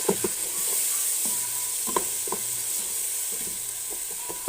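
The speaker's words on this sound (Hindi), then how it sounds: "आप मुसलसल चम्मच हिलाते जाएंगे 3 से 4 मिनट, और फिर ये तैयार हो जाएगी, भुन जाएगी" Masala and fenugreek leaves roast in a pan with a low steady sizzle, while a spoon scrapes and taps in short irregular strokes, close and clear, without speech.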